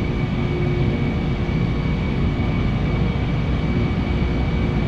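Boeing 747-400 jet engines spool at takeoff power in Flight Simulator X, a loud continuous rumbling roar with a steady high whine and no voices.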